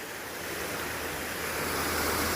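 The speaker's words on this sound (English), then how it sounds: "a lovely little weir as well" Canal overflow water pours steadily over a small weir toward the River Stour below, a continuous broad rushing that swells slightly louder, with no talk.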